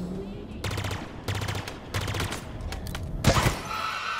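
Bursts of rapid automatic fire from a pulse carbine in Halo Infinite, a string of repeated volleys separated by short pauses and ending in a louder impact burst, with game ambience in the background.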